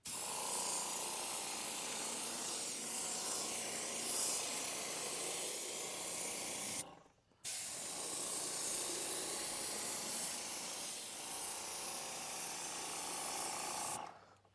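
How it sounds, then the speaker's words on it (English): A sprayer applies coating to a pressure-treated deck, giving a steady, close, loud hiss in two long passes separated by a brief pause. "You can see with the spray, it goes on pretty good."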